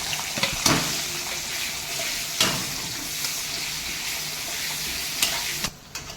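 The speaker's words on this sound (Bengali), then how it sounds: "এই কাঁটা পেঁয়াজগুলো আমি ভেজে নেবো" Chopped onions fry in hot oil for a mushroom and potato curry, a loud continuous sizzle close by with a few sharp clatters of a utensil against the pan.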